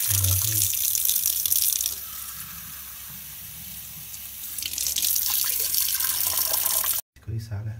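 Tap water rushes into a pot while cooking vegetarian Cantonese rice, a steady, loud hiss whose tone shifts as the pot fills, then cuts off abruptly near the end.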